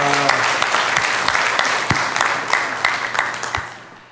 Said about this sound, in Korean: 우리 영광의 박수를 우리 하나님께